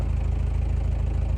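Exhaust note of a 1995 Toyota Land Cruiser KZJ73 with its 3.0-litre 1KZ-T turbodiesel, a steady, rumbling idle heard close and alone.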